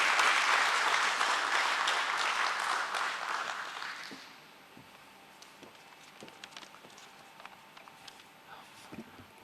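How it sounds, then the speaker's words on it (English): Warm round of applause from an audience gathered for a company stock listing ceremony, loud and dense at first, then fading over a few seconds into scattered claps and quiet room noise. "Let's have a huge round of applause for him."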